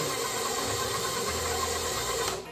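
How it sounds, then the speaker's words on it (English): An electric mixer beats cake mix batter with butter for almond spritz cookies, giving a steady, dense whirring drone that runs unbroken and then tapers off right at the end. "Okay, the mixer's misbehaving today."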